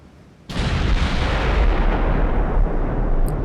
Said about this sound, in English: Firing at the destroyers.